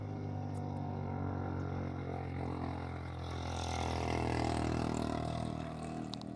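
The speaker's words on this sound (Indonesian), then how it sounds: "Kalau kapal nelayan tuh dari bawah jembatan tuh dia lewat." A fishing boat's engine passing under a bridge in Banda Aceh gives a steady low droning rumble with a broad wash of noise, swelling slightly toward the end of the pass and continuing without a break.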